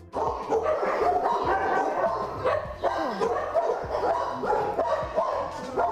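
Several dogs at an animal shelter in Kryvyi Rih bark, yip and whimper continuously at moderate distance, while a voice speaks over them.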